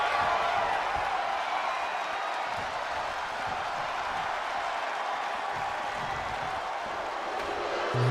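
Arena crowd in the wrestling video game WWE 2K25 during a chaotic ladder match, a steady wash of cheering and scattered applause that holds at an even level throughout without a distinct peak.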